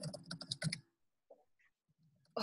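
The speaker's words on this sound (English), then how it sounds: "we can't hear a lot because someone's typing really loudly" Someone types loudly on a computer keyboard in a quick burst of close, sharp clacks, then a few scattered faint clicks after a pause and another louder burst at the end.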